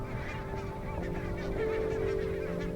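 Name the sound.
barnacle geese honking at a Scottish river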